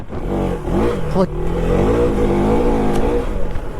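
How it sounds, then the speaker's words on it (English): A 390cc adventure motorcycle engine revs up sharply as the clutch is slipped to raise RPM, rising into a sustained close, loud drone lasting a few seconds. "if you shift up a gear right now and touch the clutch to get the RPM up, it literally just takes off"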